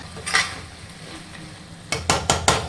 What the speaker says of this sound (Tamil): எடுத்துட்டு கிளறி விடுங்க